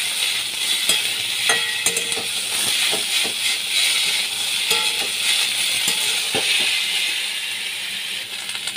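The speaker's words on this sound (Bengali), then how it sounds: "লতি দিয়ে আমি ভালো করে নাড়াচাড়া করে নিচ্ছি।" Lotus stolons and shrimp sizzle steadily in a frying pan, with a spoon or spatula clacking and scraping in irregular strokes while stirring close up; no talk.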